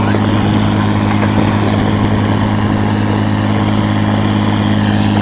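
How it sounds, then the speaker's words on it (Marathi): Heavy diesel engine of a purse seine fishing boat driving at full power, a loud constant droning hum with a deep steady throb running unbroken throughout. "फुल पॉवरला बोट चालली आपली."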